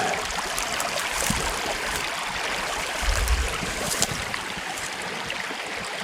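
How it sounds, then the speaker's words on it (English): Creek water flowing over stones in quiet countryside, a steady broad rushing and trickling wash that fills the whole stretch, close and even, with no voices. "All I hear is the sounds of Mother Nature and this cool creek."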